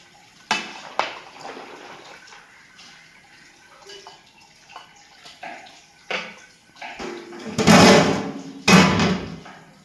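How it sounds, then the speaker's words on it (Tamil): Beef biryani being stirred in a large wide pot, with scattered scraping and clanking knocks and a louder metal clatter near the end as the lid goes on. "நல்லா கிண்டி விட்டு மூடி போட்டு வேக விட்டுறோம்"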